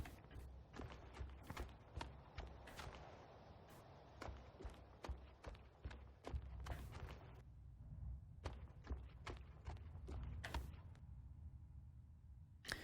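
Footsteps in the video game Manifold Garden, a steady series of crisp, sharp steps walking along at an even pace, clear and close against a quiet low hum.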